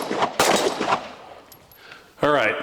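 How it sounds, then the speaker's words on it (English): Glock Gen6 pistol shots at a shooting range: a few sharp, loud reports in quick succession near the start, then a quieter stretch ending in another burst of noise. A voice comes in near the end. "These are definitely quicker shooting, quicker cycling."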